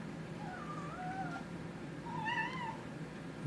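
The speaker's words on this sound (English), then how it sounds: "You might hear my little cat Rigel." A small cat meows twice, a soft drawn-out call followed by a higher one, faint in a quiet indoor room.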